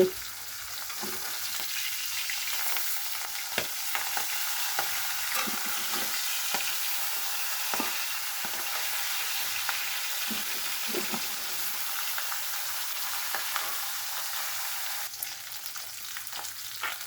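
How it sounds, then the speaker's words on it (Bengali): Pabda fish frying in a pan make a constant close, crackling sizzle, with soft scrapes and taps as the pieces are turned over and no voices present. "এখন মাছগুলি একটু উল্টিয়ে দেব।"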